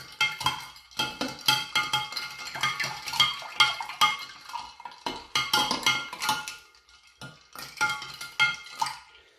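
A spoon stirs briskly in a jug of tamarind and plum sharbat, making a rhythmic run of clinks and swishes that pauses briefly, then starts again.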